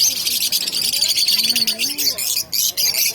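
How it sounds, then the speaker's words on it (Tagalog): African lovebirds at a market stall give high, shrill chirps in a continuous chatter, close and fairly loud, with a brief low voice underneath. "African lovebirds."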